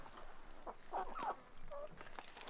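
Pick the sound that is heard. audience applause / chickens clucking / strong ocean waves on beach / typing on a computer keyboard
chickens clucking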